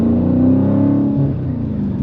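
A 2023 Dodge Challenger WB Shakedown Edition with a 6.4L Hemi V8 and six-speed manual revs loudly and close up, a deep, throbbing engine note that rises and falls in pitch.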